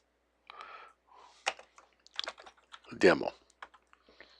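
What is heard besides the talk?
typing a command on a computer keyboard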